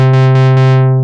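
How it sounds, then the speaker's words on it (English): Square wave from a Feedback Modules VCZIII oscillator synth module, a loud, steady buzzing tone with a few faint clicks near the start, sustained for about a second with no speech. "So if I just wanted the square wave,"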